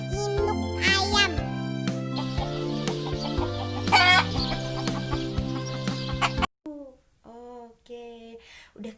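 A hen clucks in a short run of curved, bird-like calls at the end, after several seconds of steady instrumental music that stops abruptly.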